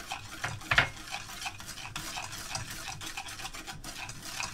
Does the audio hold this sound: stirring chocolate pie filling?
yes